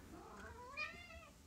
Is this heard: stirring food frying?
no